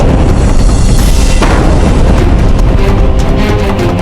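Cannon fire in a dramatized Mughal battle, a loud, dense booming blast with rumbling low end that fills the whole stretch, with a sharp report partway through.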